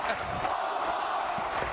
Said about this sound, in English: The crowd chanting Popo